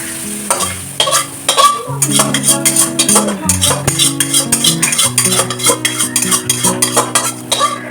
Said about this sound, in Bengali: জাস্ট এটা কষিয়ে জলটা মরে গেলে আমি খিচুড়ির মধ্যে ঢেলে দেবো